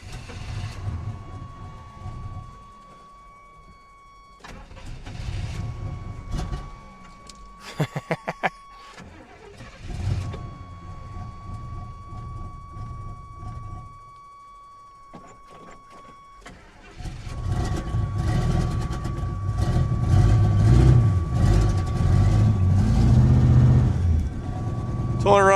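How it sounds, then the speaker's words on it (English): A GMC truck engine running roughly on about four cylinders, idling unevenly with a steady whine and low uneven chugging, growing louder and heavier near the end, with a person talking intermittently over it. "It's only running on about 4 cylinders, I'd say."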